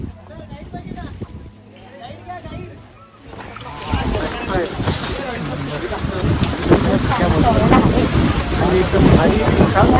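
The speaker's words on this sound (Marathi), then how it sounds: "वारा वगैरे" Gusty wind buffeting the microphone on Raigad Fort in rain and fog, roaring louder after a few seconds of quieter outdoor sound with faint voices in the background.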